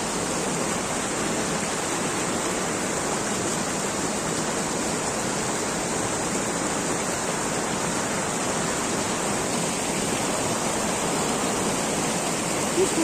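A mountain waterfall near Chandanwari in snowy Kashmir pours in a steady, dense rush of water that stays even throughout, with no voices over it.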